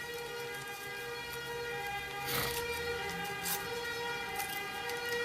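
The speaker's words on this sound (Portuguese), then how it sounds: "ambulância passando" An ambulance siren sounds faintly in the distance as it passes through a city centre in Curitiba, rising briefly over steady traffic hum with no talk.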